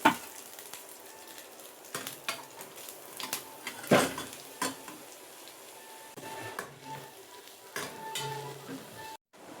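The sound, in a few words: grated carrot stirred into pan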